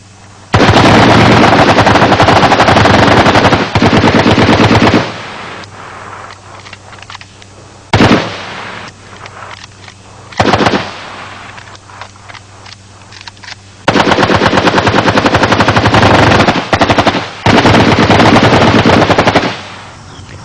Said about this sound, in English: This is a West German G3, which fires a full caliber .308 round.